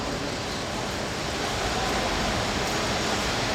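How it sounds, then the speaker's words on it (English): Rollers at a track race give off a steady, broadband rushing hum, like white noise, that fills the space evenly without a break or any voices. "the white noise of the rollers humming in the background"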